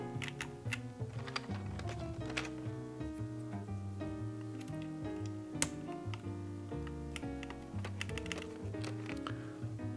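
Typing on a FreeBird60 mechanical keyboard, keys clacking steadily and close at hand in dense, uneven bursts for the full stretch, with no voices.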